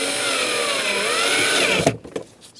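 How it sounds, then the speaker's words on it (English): Power driver running a screw back in during a cabin air filter install on a 2010-2013 Kia Soul 2.0L, one loud sustained whine with a rising pitch that stops abruptly, followed by a few light clicks. "Now we're going to put our screws back in."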